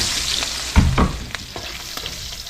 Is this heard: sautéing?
yes